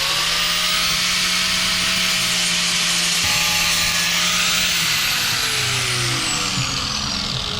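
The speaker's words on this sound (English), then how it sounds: "For example, like this right here, I'm gonna sand down." Intake manifold casting for a 1JZ VVT-i engine being sanded with a power tool, a loud continuous abrasive whine and grinding rasp with shifting pitch, steady throughout.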